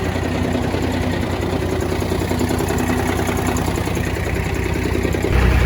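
A 1955 Oshkosh W712 6x6 truck engine runs steadily at a low, rumbling idle close by, with a slight rise in revs near the end and no talking.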